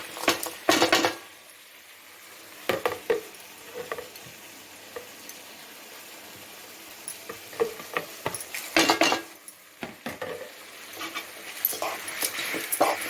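Ginger, garlic, chillies, fennel and cumin sautéing in a pan: soft sizzling with scattered scraping stirs and clanks against the pan, close by, with quiet gaps between bursts.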